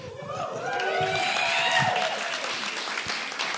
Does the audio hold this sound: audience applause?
yes